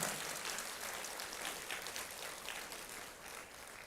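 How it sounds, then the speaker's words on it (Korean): A church congregation at a Korean prayer meeting claps in thanks, a steady wash of many hands filling the room at moderate level, fading slightly toward the end with no talk over it. "우리 하나님께 감사의 박수 올려주시면 좋겠습니다."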